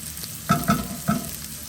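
Red onions frying in a pan for a vegetable frittata, a soft continuous sizzle broken by three quick scraping stirs, close and alone.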